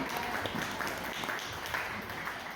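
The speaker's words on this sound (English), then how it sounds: "Please, all give yourselves a round of applause for coming out to this great event tonight" An audience at a Frisco Democratic Club happy hour applauds steadily, a dense, even wash of many hands clapping throughout, fairly close and continuous with no pauses.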